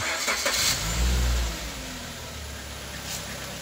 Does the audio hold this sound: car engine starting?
yes